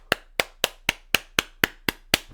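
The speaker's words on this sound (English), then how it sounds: "So if I just clap my hands" Nine sharp hand claps ring out alone at a steady, even pace, each crisp and close with a short decay.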